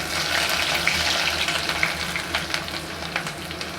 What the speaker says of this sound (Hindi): प्याज को हमने 2 से 3 मिनट तक फ्राई करना है।